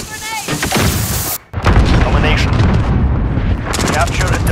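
Artillery strike explosions boom in a video game battle, heavy dense blasts and gunfire rumbling loudly over a brief gap, with voices calling out over the chaos.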